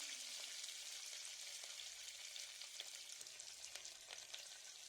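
Onions frying in oil for aloo sagu, a steady soft sizzle and crackle with faint scattered pops, close and continuous, no voices.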